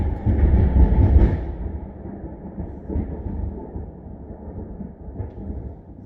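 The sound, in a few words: thunder after a lightning strike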